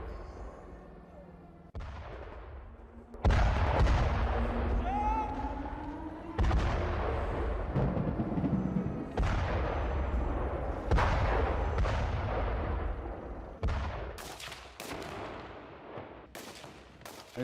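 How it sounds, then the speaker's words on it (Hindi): Israeli missile strikes in Gaza: a series of heavy blasts and sharp booms arrive in bursts, loud and reverberant, with rumbling between impacts and faint background voices. "इजराइल ने यहां भी मिसाइल अटैक किया और हमास के सुरंग जाल को तहस नहस कर दिया।"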